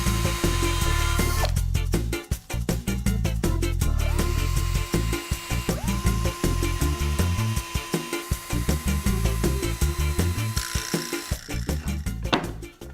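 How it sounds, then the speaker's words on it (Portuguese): Power drill with a flat spade bit boring holes in wood for cabinet handles, a loud continuous whine with several pauses and restarts as each hole is drilled, close and alone. "Eu vou começar fazendo os furos na madeira."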